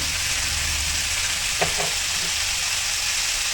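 Chopped tomatoes with salt sautéing in a pan for a bitter gourd thokku, a steady, even sizzle filling the whole stretch with a brief stirring scrape in the middle.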